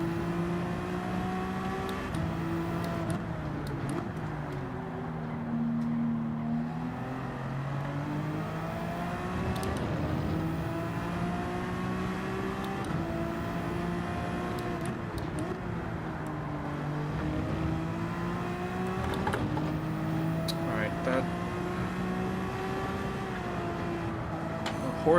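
Race cars lapping in Gran Turismo 7 during a Manufacturers Cup round in Barcelona, a continuous whining engine drone rising and falling through gear changes, with tyre and track noise under it and no voices.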